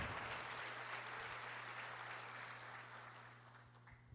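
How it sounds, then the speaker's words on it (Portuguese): Church congregation applauding after a sermon, a faint, even wash of clapping that slowly fades away over a few seconds, heard from a distance without speech. "pode aplaudir o Senhor, porque a palavra de Deus é maravilhosa"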